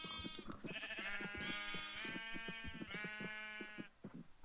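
Baby sheep bleat over and over in a farming video game, the wavering calls overlapping one another, loud and close, with no talking.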